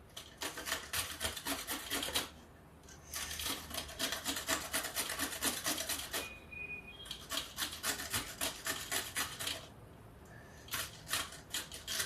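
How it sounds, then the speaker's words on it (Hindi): A knife chops through a carrot on a wooden board in quick rhythmic bursts of sharp cutting taps, pausing briefly between runs, close and clear with no talking. "ये गाजर कट लेते हैं"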